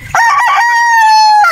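A Boston Roundhead gamecock brood stag crows once, loud and close, a single sustained cock-a-doodle-doo with a short opening and a long held tone that trails off.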